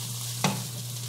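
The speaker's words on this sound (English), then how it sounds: "I've just put it in the canola oil" Cauliflower rice fries in canola oil in a pan with a loud, close, continuous sizzle, a brief sharp crackle rising partway through.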